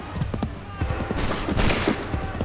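Soldiers fire a musket volley in Assassin's Creed III, a ragged crackle of overlapping shots that swells into a dense burst, with shouted commands underneath.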